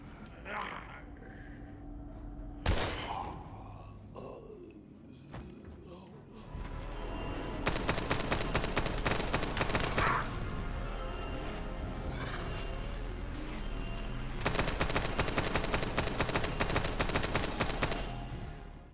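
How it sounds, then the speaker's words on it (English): Gunfire from the survival-horror video game Daymare 1998: loud, rapid bursts of repeated shots in two long volleys, with scattered impacts and game sounds between them. "The shooting does have some decent impact, with your shots causing heads to sometimes pop along with limbs being blown off."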